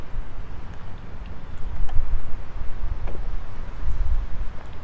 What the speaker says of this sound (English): It's a little bit breezy.